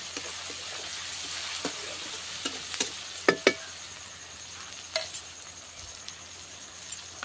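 Masala and tomato fry in a pan under a soft continuous sizzle while a spoon stirs, giving scattered scrapes and sharp clinks against the metal, with a few louder knocks midway.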